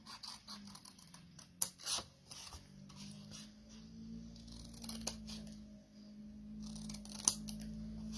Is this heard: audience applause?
no